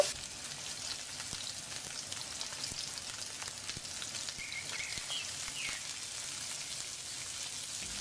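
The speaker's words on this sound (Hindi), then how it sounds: "अब टमाटर को गलने तक हम इसको अच्छे से चलाएंगे और पकने देंगे" Tomatoes and chilies cooking in hot oil with browned onions, a steady soft sizzle and crackle like light rain, with faint stirring scrapes and no talk.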